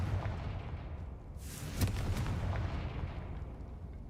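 Confringo fire spell in the video game Hogwarts Legacy, a single whooshing blast that swells to a sharp explosive burst and then fades into a low rumble, heard alone with no talk.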